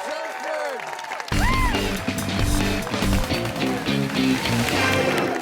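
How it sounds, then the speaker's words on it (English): Studio audience at a high school quiz show breaks into applause for both teams, a sudden burst of clapping and cheering that stays loud and dense throughout after a moment of a lone voice. "How about some applause for both teams?"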